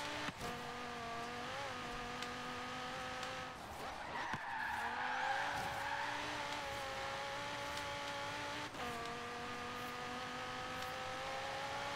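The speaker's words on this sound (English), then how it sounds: "All that braking and still missed the turn." Car in Forza Horizon 3 braking hard and skidding, a locked-differential build tuned purely for straight-line speed, with a steady engine drone and a swelling tire squeal over several seconds.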